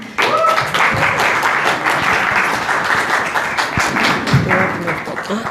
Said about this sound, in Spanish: un aplauso para recibir a Selene